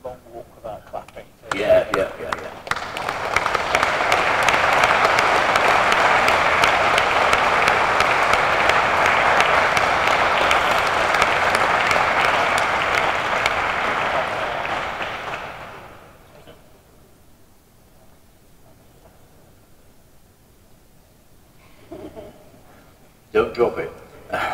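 Audience at a poppy launch event gives sustained applause, a dense, steady wash of clapping lasting over ten seconds before fading out into quiet room sound with occasional voices and thumps.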